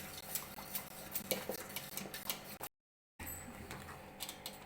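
A utensil stirs thick grape halwa in a pan without pause, giving quiet repeated scraping and clinking strokes, briefly cut to silence midway before the stirring resumes.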